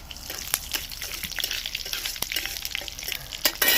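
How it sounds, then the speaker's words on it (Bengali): Panch phoron and a bay leaf frying in hot mustard oil, giving a steady close sizzle with crackling pops and spatters throughout. "এবার দিয়ে দিচ্ছি পাঁচ ফোড়ন আর দিচ্ছি একটা তেজপাতা তাও ছিটে একটু ভেজে নেব"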